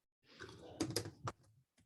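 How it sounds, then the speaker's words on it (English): Typing on a computer keyboard while filling in podcast distribution details: a short burst of close, clattering keystrokes with a few louder taps, then a lone click after a pause. "Do you mind typing it in, Susan?"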